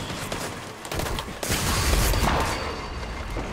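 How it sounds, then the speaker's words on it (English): Sniper rifle shots in an online shooter game, sharp heavy cracks that burst out over a dense wash of gunfire and explosions, loud and close. "There's a sniper trying to snipe me somewhere."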